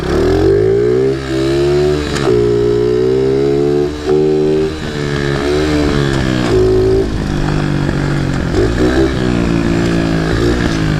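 A pit bike ridden through the woods roars close by, its engine revving up and down in repeated surges with short dips between throttle bursts, loud and continuous.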